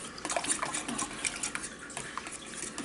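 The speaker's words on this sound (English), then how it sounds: "I am vigorously stirring this and making a bit of a mess" A utensil stirs lemon, buttermilk and egg batter vigorously in a bowl, giving quick, faint, irregular clinks and wet sloshing scrapes close by.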